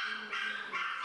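A salt-and-pepper miniature schnauzer gives a quick pair of close, high-pitched barks in about a second, with no other sound around them.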